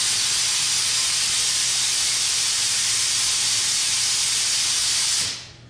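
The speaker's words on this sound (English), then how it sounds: "I just turned the compressor on to run this" A loud, steady hiss of compressed air from an air compressor running a small-cup spray gun streams continuously for several seconds, then quickly tapers off at the end.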